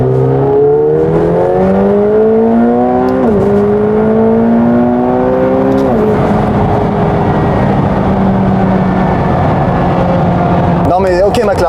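A McLaren 720S Performance revs and accelerates hard, its loud engine note climbing in pitch through repeated gear pulls, with brief drops at each shift, ending in a sharp rasp.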